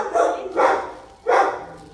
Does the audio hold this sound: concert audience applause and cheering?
no